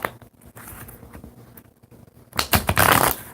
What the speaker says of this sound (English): I'm going to shuffle the card.